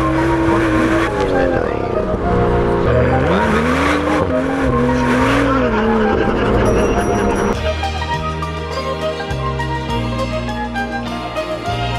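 A BMW M2 driven hard in a drift, the engine droning and rising in pitch with tire squeal over it, loud and continuous, with someone talking over the noise.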